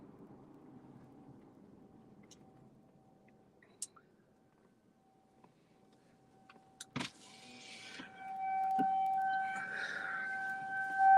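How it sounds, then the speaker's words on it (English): Outdoor civil defense sirens in Noblesville, Indiana, during a storm, a steady tone under car and wind noise that swells louder toward the end. "Here the sirens are still going off."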